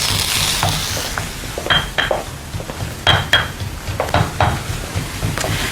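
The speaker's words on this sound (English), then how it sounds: "And I'll put our squid onto the hot plate" Squid pieces hit a hot plate with a steady close sizzle, broken by several sharp clinks and scrapes of tongs or utensils against the metal.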